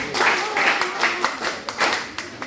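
Students at a school reading competition clap for the red team, scattered group handclaps in uneven bursts, with faint voices mixed in.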